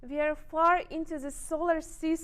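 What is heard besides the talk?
No everyday noises stand out.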